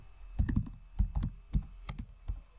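Keys clack on a computer keyboard in short bursts of two or three strokes, close and fairly quiet, ending with a Ctrl+Enter press to add a new page in a document.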